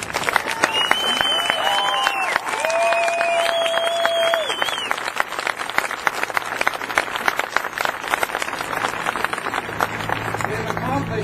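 A rally crowd of Canadians dressed in red applauds loudly and steadily, dense clapping filling the space with some cheering mixed in near the start.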